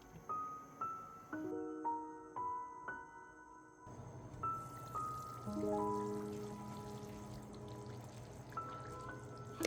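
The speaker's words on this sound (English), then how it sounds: "Add water depending on how much gravy you want." Water is poured into a simmering fish kofta curry gravy, a soft splashing rush that starts partway through and runs continuously under a light melodic music bed, with no speech.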